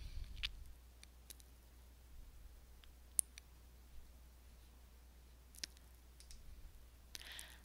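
Computer mouse clicks selecting a version number in a file history: a handful of faint, sharp isolated clicks spread irregularly over near-silence.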